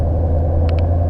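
Heavy truck rumbling close by on a road near an Amazon depot in the UK, a loud continuous low engine drone with two brief hissing bursts near the end.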